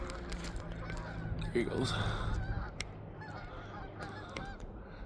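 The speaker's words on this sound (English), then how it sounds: "Imagine the view these guys must get of the geese that come flying over." Geese flying over a park honk repeatedly, loud and nearby, their calls overlapping while someone speaks briefly over them.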